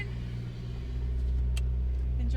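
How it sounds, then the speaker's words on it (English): Steady low engine rumble and road noise from inside a car driving through mountain roads on the South Coast, loud and continuous with a slight rise partway through. "Just in the car with Darren,"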